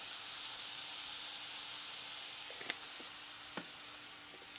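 Steak with garlic and seasoning sautéing in a pan, a faint steady sizzle and hiss with a couple of soft clinks partway through, no talking.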